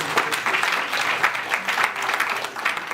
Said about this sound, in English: I like the way the applause is going